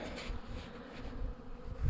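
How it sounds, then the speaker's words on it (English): A swarm of bees buzzes on a Pacific Crest Trail hiking path, a low, continuous droning hum that swells slightly as the insects pass close by. "There's a swarm of bees."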